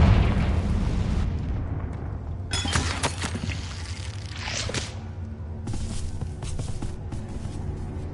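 A Confringo fire spell blasts in Hogwarts Legacy: a loud roaring burst up front that fades, then crackling, booming impacts and a lingering fiery rush through the rest, with no talking.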